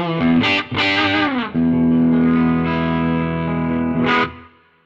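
Electric guitar, a Les Paul-style instrument with humbuckers, played clean through a vintage amp with no pedal, strums a few chords and lets them ring in long, full sustain, close and loud with no talking.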